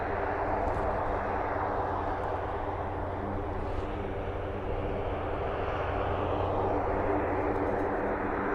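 Steady, distant roar of a light aircraft engine drifting over an airfield, a broad continuous rumble with no voices.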